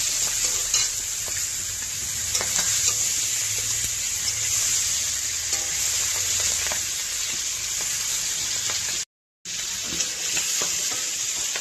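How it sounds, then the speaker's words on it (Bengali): Fish fry in a pan with a loud, continuous sizzle and occasional stirring scrapes, broken by a brief dropout near the end. "আমার মাছ ভাজা কমপ্লিট হয়ে গেছে মাছগুলো এখন তুলে নেব"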